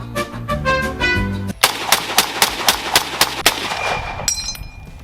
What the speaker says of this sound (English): The M1 Garand, ladies and gentlemen.